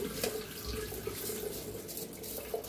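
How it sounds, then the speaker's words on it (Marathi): Water runs and trickles steadily, draining through a sieve from soaked rice with a soft continuous splashing. "असं एका चाळणीत पाणी वतून घ्यायचं म्हणजे पाक निघून जाते पाणी"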